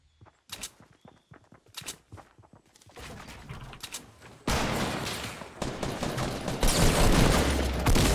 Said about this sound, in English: I'm getting shot from up the hill